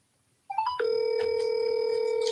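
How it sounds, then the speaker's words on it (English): Telephone call on a real estate cold-calling line: after brief quiet, a short rising tone comes in, then a steady, loud electronic ringback tone that holds to the end, with no talk. "let me go ahead and double dial this one real quick."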